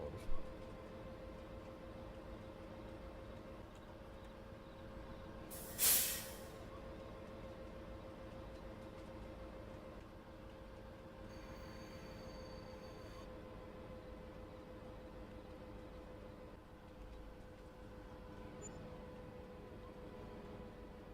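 A big locomotive in Farming Simulator 22 rumbles steadily with a constant mechanical drone and hum, plus a brief louder hiss burst early on and a faint whine midway, taking a tight corner.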